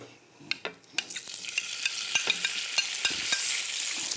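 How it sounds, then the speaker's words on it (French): Swordfish pieces sauté in a pan, a hiss that builds steadily while a utensil scrapes and taps at the pan in irregular strokes. The sound is close, with no talk. "On va pouvoir faire revenir les morceaux."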